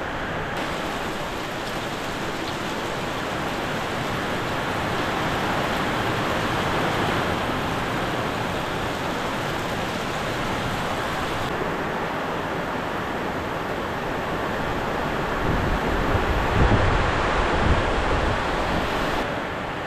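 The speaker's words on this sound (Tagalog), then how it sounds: "kahit umuulan, hindi siya nagiging malaking problema, no?" Dense, steady hiss of heavy rain falling outside a house during a typhoon, constant and enveloping, with gusts of wind swelling now and then and no voices.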